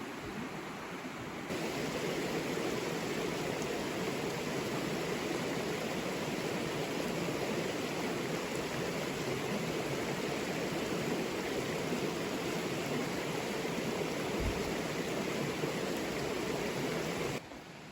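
Minister Creek flows past a campsite over Labor Day weekend, a steady, broadband rush of running water that stays loud and even, close by with no voices, trailing off briefly at both ends.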